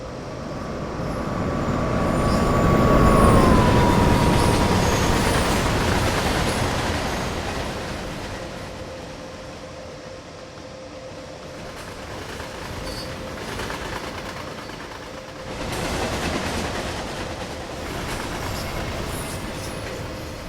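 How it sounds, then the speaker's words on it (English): Trains pass through a station loop in the Main-Spessart Bahn route of Train Sim World 5, rumbling loudly with rolling wheels and a brief wheel squeal before fading into quieter track noise and a second, softer pass. "I passed the time by watching the other trains coming and going while I waited for the banker."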